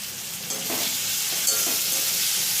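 Salt and turmeric stirred into sizzling tomato and onion in a hot pan, with a spatula scraping and pushing through the mixture against a steady, loud frying hiss.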